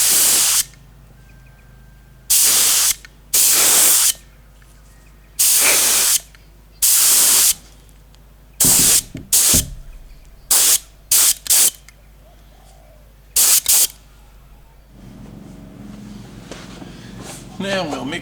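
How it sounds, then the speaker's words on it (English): Base coat paint from a spray gun, laid down in repeated loud hissing bursts of one to two seconds separated by quiet pauses, with shorter, choppier bursts later and faint background noise between them. "Let's pop that in the gun and shoot it. I'll lay down 2 coats of base and probably 2 coats of clear."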